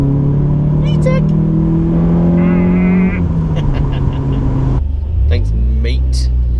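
A modified Honda Prelude engine heard from inside the car, a loud steady rumble rising in pitch as it revs, then easing off, with a voice speaking over it.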